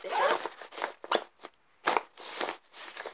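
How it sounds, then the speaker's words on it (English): Someone zips up the pocket of a pencil case with several quick, crisp zipper pulls in uneven bursts, close to the mic and separated by brief pauses. "Let's just zip this up."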